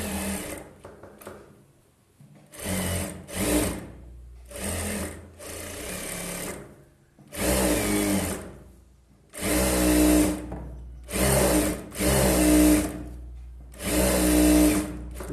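Sewing machine stitching a blouse, running in repeated loud bursts of fast mechanical whirring separated by short pauses, close up.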